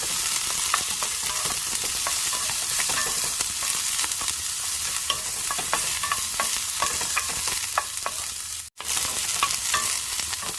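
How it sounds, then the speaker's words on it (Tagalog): Onion stir-fries in a hot pan as the first step of a mixed vegetable stir-fry, giving a steady, close sizzle throughout with scattered clicks of stirring and one brief dropout near the end. "Stir fry mixed vegetables. Umpisa na natin guys. Unahin muna natin yung ating onion."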